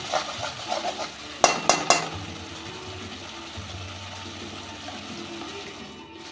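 Spice paste with Kashmiri chili powder and mustard being sautéed in mustard oil, with a low sizzle and a few quick clattering scrapes of a spoon against the pan, close and brief, then quieter frying.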